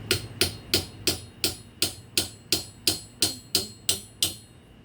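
Hammer driving clenching nails into wood, a dozen sharp, evenly spaced blows in a steady rhythm, each strike loud and close with a brief ringing decay.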